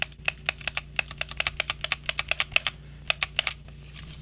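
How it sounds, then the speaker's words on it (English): A PowerA Switch controller thumbstick pushed fully down gives a quick series of sharp, light plastic clicks, close and distinct in an uneven rhythm, more than twenty in a few seconds over a faint steady hum. "when I make full actuation from the thumbstick all the way down,"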